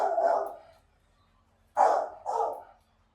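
A working search dog in its kennel barks three times, one bark and then a quick pair after a pause, loud and close with no voices.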